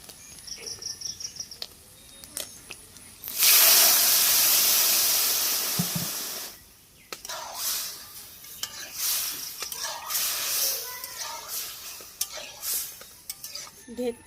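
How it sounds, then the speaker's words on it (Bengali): Vegetables are poured into a pan of fried fish and burst into loud sizzling that fades to crackling frying, with stirring scrapes and clatters following. "এখন আমি কিন্তু সবজিটা ঢেলে দেব"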